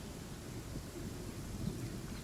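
Rain falls steadily with a low thunder rumble in the video game Genshin Impact, a dense, even wash of noise that continues without a break.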